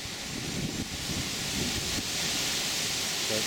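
Strong gusting wind ahead of an approaching storm in St. Louis roars and buffets the microphone in a dense, steady outdoor rush with no talking.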